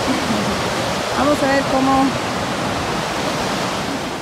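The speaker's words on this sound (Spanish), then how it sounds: "Acá está el río, miren para acá, para abajo." River water flowing near a village, a loud steady broadband rush close by, with a brief spoken voice partway through.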